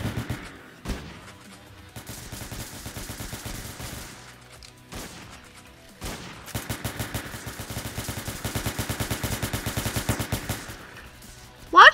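Automatic and single gunfire in the Roblox game Entry Point, enemies shooting through walls, coming in loud bursts of rapid shots separated by short pauses, with a louder burst at the very end.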